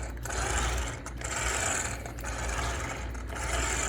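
Wheels of a Redcat Machete, a 1/6-scale RC car with grippy but hard tires, roll steadily across a surface, producing a continuous close scraping rumble that swells and dips in a loose rhythm.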